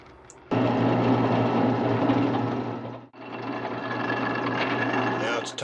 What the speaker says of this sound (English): Next is time to drill the holes for the uprights.